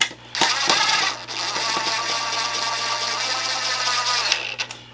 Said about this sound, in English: Got to get the dewalt out.